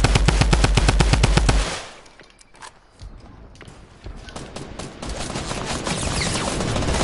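Rapid machine-gun fire in a shooter video game, loud and close for a second and a half, then a lull, then scattered shots and clatter building up again.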